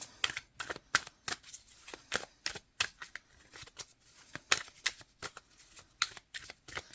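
Tarot cards are shuffled by hand in quick crisp riffles and slaps, a steady irregular run of close, light papery bursts in a quiet room.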